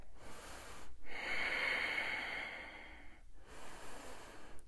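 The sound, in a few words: breathing during a yoga runner's lunge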